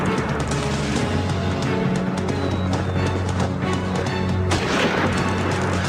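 Heavy, continuous gunfire crackles through a police shootout with a trapper, dense overlapping bursts and booms filling the whole stretch with no pauses.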